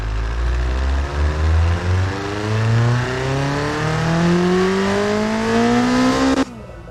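An engine in the video game Automation revs steadily upward toward 8,000 rpm, its pitch climbing smoothly for several seconds before cutting off abruptly, loud and close with no talking.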